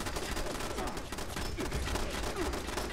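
Gunfire in Fallout 76 aimed at the player, a dense rapid volley of shots crackling continuously over a busy game background, close and sustained.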